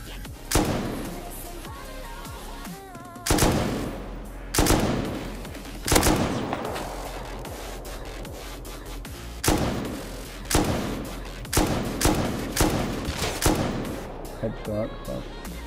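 Gunfire in the modded survival game Rust, with a string of loud, sharp shots and short bursts spread across the stretch, some in quick clusters, over a steady background of game ambience and occasional voices.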